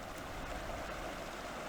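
Whitehorse Creek in Alberta's backcountry flows past as a faint, steady wash of running water, soft and continuous with no voices.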